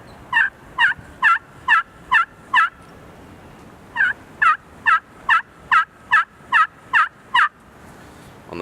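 A turkey hen's yelps are imitated on a mouth call, two subdued series of six and eight evenly spaced, raspy yelps with a short pause between them, close and clear with no talking.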